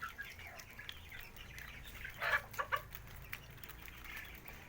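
Free-range laying hens and ducks kept on a rooftop, clucking softly at a moderate distance, with a brief cluster of louder clucks in the middle before the flock settles back to quiet murmuring.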